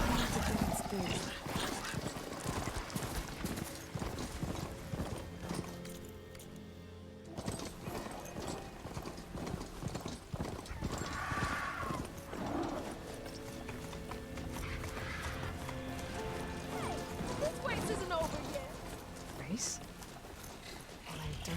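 Horse hoofbeats in the video game Horizon Forbidden West, a continuous clip-clop of a ridden horse running throughout, with voices talking over the hooves.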